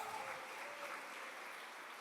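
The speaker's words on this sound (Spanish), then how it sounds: "Alguien aplauda a Jesús, por favor, en esta preciosa hora." A church congregation applauds during a sermon, a steady wash of many hands clapping at middling distance for the whole stretch, with no voices standing out.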